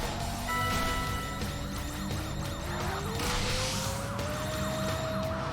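An ambulance siren wails with rising and falling tones in a PlayStation 2 racing video game, loud and continuous over engine and game noise, with a brief crash partway through.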